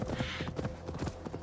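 Galloping hooves thud in a fast, uneven rhythm from a horse in the Assassin's Creed Valhalla video game, fairly close and loud over a bed of game ambience, with no talk.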